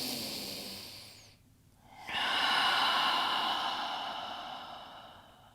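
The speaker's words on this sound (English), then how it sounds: "Deep breath here." A slow, deep breath taken during a yoga stretch for the ankles and calves: a long, airy exhale, a short pause, then a broad, loud inhale that fades gradually, heard close and alone.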